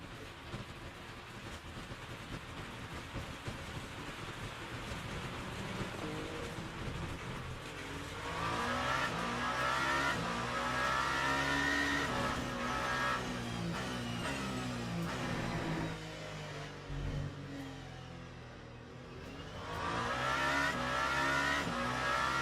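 Simulated race car in a video game at Imola, engine droning steadily with a rising, higher-pitched revving surge midway and again near the end, with a short dip as the driver brakes lightly.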